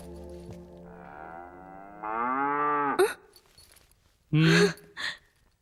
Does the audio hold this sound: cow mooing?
yes